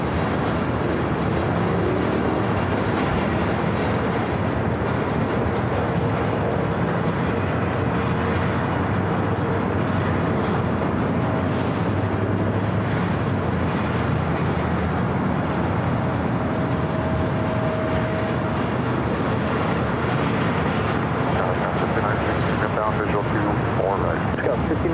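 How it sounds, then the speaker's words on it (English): A Frontier Airbus A320neo arriving on runway 24 right at LAX, a sustained loud jet roar throughout, with a voice talking over it. "Let's head to a Frontier A320 Neo. Next arrival here on the north side at 24 right."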